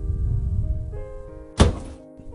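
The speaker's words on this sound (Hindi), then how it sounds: "श्रीलता ने उठकर दरवाजा खोला।" A door in a room opens with a single sharp thunk that follows a low rumble and faint tones, then the sound settles back into quiet.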